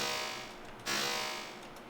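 A riddim-style synth bass patch in Bitwig, with the OTT compressor switched off, gives two harsh, buzzy, noise-heavy sustained hits, the second starting sharply and slowly fading, loud and alone.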